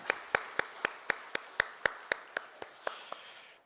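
A congregation at a Korean Sunday worship service, Pentecost and youth Sunday at Daegu Sinam Church, claps in unison: about fourteen sharp, evenly spaced claps in a steady quick rhythm that thin out at the end, with no talking.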